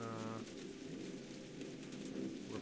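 Steady heavy rain pours throughout a thunderstorm in the Jurassic Park video game, with a low rumbling undertone of thunder beneath the constant hiss.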